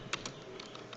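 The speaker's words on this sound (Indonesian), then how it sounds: "Lalu setelah itu kita ketikkan instruksi seperti ini." Keys tapped on a computer keyboard while entering a terminal command for a CodeIgniter 4 project, a short burst of light, uneven clicks close by with no talking.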